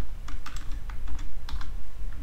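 Rapid clicking keystrokes on a computer keyboard while code is typed, a steady run of close taps over a constant low background hum.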